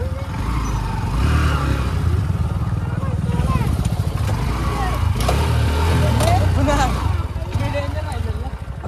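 A Honda Shine motorcycle riding off-road: a continuous engine drone with rising revs, heard nearby under people talking throughout.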